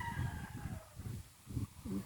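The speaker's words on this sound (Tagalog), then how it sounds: "Daming manok na pansabong" Fighting roosters on a rural farm give short, low clucks and throaty calls in uneven bursts, with a faint crow. The birds sound moderately distant and fairly quiet against open air.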